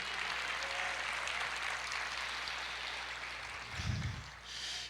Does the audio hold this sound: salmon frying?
no